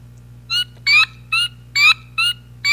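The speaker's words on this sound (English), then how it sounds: "This is a spring peeper." Spring peeper frog calls played from a recording, a series of six short, sharp, loud chirps at a regular pace over a faint steady hum.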